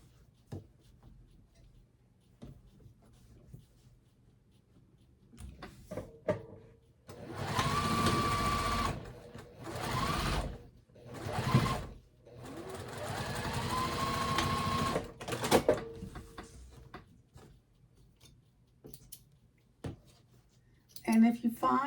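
Sewing machine stitching the seams of a quilted boxy bag in bursts of steady whirring, with pauses between runs and quiet handling noises in the gaps.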